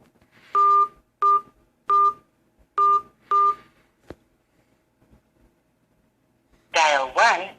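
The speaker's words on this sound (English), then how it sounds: "Dial your password and pound key." A phone keypad dials a password in five clear, evenly spaced DTMF beeps, each tone short and crisp, followed by a click, a pause and then a recorded voice prompt.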